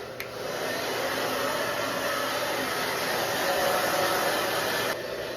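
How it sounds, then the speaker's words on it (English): A handheld hair dryer blows on a short-haired Miniature Bull Terrier during grooming, with a steady, loud whooshing roar that runs unbroken before dipping slightly near the end. "I just prefer to use this"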